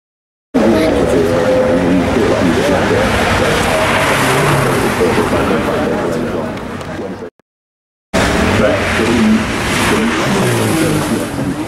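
A naturally aspirated V8 engine in a concept car revs hard at a motorsport festival, a loud, close, sustained roar that cuts out abruptly for about a second before surging back just as strongly.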